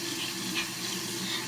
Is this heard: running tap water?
yes